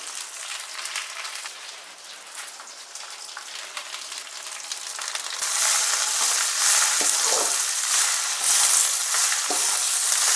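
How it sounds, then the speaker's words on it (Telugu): Drumstick leaves fry in a pan with salt and turmeric. A soft crackle turns into a louder, steady sizzle partway through, with occasional scraping from stirring. "బాగా ఒక five to ten minutes SIM ఫ్లేమ్లో పెట్టుకొని మంచిగా ఫ్రై చేయాలి"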